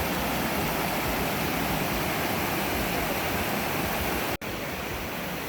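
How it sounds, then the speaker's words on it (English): A woodland creek flows steadily and close by, a dense, even rush of water with no voices. "All right, we found the creek."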